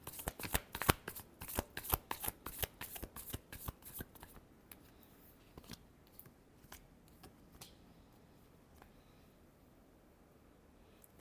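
Tarot cards are riffled and shuffled by hand in a quick rapid run of crisp flutters, then slowing into sparse, softer taps and slides, close and alone in a quiet room.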